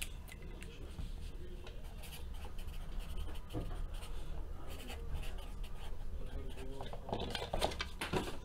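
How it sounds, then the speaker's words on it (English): Pen writing by hand on paper at a table during a sports card box break, a steady close scratching that runs continuously under a faint background murmur. "Let me actually write this down."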